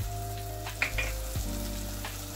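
Spices sizzle and fry in a hot pan for a mango prawn curry, with a steady loud crackle and a few stirring scrapes, no voices.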